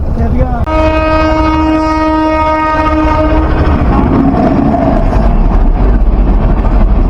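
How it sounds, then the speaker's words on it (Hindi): An approaching train sounds a long, loud horn blast up close, then its heavy rolling rumble fills the rest, with faint voices underneath. "ट्रेन आ रही है"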